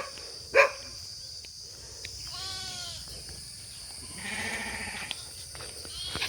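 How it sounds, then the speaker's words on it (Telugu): Sheep on a farm bleat a few times, with one short sharp call near the start and longer wavering bleats later, all fairly faint over a quiet outdoor background. "గొర్రెలు, ఈ మేకలు కాదు, అదే గొర్రెలు."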